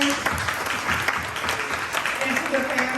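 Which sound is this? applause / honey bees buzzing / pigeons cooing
applause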